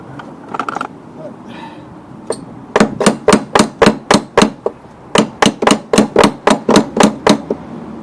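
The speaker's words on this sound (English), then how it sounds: "Hammer time." Rapid, evenly spaced hammer blows ring out on metal during a Tecumseh engine swap on a Craftsman Eager lawnmower, two bursts of about a dozen sharp strikes each, loud and close, after a brief muffled clatter.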